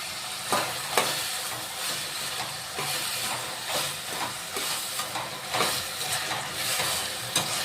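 Tomato and mixed vegetables fry in oil in a home kitchen pan, a continuous loud sizzle broken by scraping stirs, with no voices.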